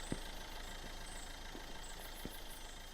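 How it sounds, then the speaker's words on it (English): A car engine strains in a video game, a faint, steady mechanical drone with a few soft thumps scattered through it. "Sound like your engine working hard."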